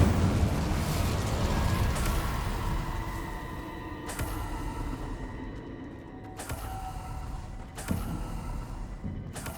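A fiery Incendio spell is cast in the Hogwarts Legacy video game: a loud rushing, roaring burst of flame that gradually fades, punctuated by a few sharp cracks and pops toward the end.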